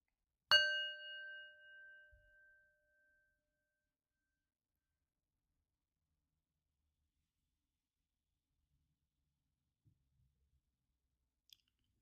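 A single bell or singing-bowl strike rings out once, clear and resonant, then decays slowly over about two seconds into near silence, with faint small sounds far later.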